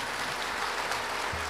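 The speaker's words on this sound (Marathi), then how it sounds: "एकदा या सगळ्या मंडळींसाठी जोरदार टाळ्या वाजवा." An audience at a Marathi kirtan bursts into dense, sustained applause: many hands clapping together in a steady, fairly loud wash of claps with no voices over it.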